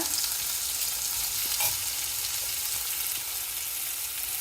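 Okra sizzling steadily in hot oil in a pan for a Rayalaseema-style sour curry, a dense continuous frying hiss with a brief stir near the middle and no talking.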